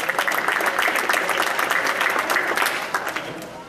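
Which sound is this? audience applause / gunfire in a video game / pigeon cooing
audience applause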